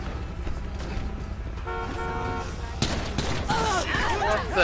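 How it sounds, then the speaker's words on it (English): Gunfire rattles through an LSPDFR police game scene alongside a blaring car horn, with sharp shots and bursts breaking out over steady street noise, mid-distance, while a voice talks. "now they're shooting civilians"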